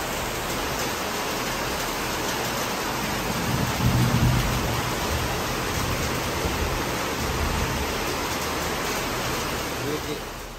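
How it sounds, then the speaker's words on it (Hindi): Heavy rain pours in a dense, unbroken roar in Guwahati, swelling slightly at moments, with no talking over it. "बारिश जो है अभी तक रुकी नहीं है"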